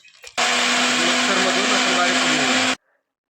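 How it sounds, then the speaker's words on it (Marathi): A mixer grinder roars loudly for about two seconds while blending onion paste, a steady high-pitched whir that starts and stops abruptly. "कांदा पेस्ट करून घेऊया मिक्सरच्या भांड्यामध्ये टाकलेला आहे"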